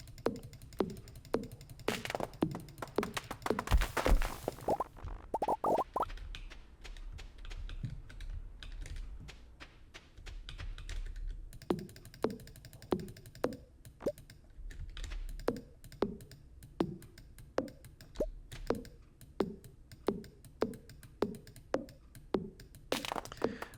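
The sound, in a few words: computer mouse clicking while playing Stardew Valley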